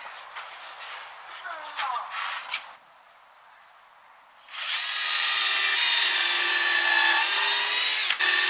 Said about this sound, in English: Important thing is to try and keep your drill straight.